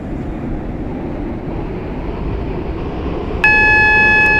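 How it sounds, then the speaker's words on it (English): Class 730 train running in the Roblox game SCR, a steady, even rumble of the moving train throughout, with a bright multi-tone electronic chime or announcement tone starting near the end. "Welcome aboard this Waterline train to Connolly."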